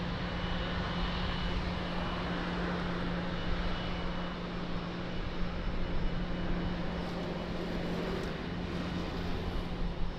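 A large airliner, an A330, rolls for takeoff at Lisbon Airport, a steady loud broadband engine roar with a sustained low drone filling the whole stretch, no voices over it.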